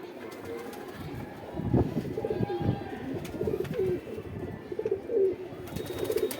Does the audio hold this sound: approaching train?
no